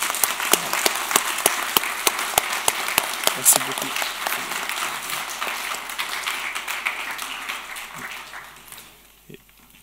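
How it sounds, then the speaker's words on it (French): A church congregation applauds steadily for several seconds during a child presentation service, with sharp individual claps standing out before it fades, and a voice speaks briefly over it. "Je pense qu'on peut les applaudir bien fort."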